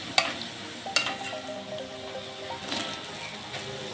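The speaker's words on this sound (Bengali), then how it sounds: "আমি সর্ষের তেল দিয়ে ভেজেছি" Potato pakoras frying in mustard oil give a steady, moderate sizzle in a home kitchen, broken by a few sharp clinks and scrapes as the pieces are turned in the pan.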